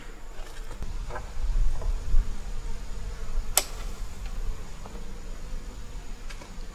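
Honeybees buzz around an open beehive being checked during fall nectar storage, a moderate steady hum with scattered louder passes of individual bees close by and a sharp brief tick midway.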